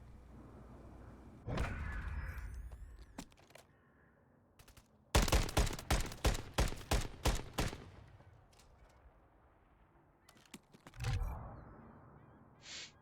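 A rapid string of loud gunshots erupts in a Search and Destroy video game match, preceded and followed by scattered lone shots and quieter stretches of game ambience.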